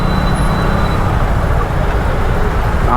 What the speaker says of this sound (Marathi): ट्रॅफिक भाई